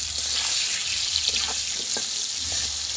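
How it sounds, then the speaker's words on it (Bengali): Potatoes seasoned with salt and turmeric frying in oil in a home kitchen for a Bengali dish, giving a steady close sizzling hiss throughout with a few faint clinks from stirring. "দিয়ে আলুটা একটু লাল লাল করে ভেজে নেব"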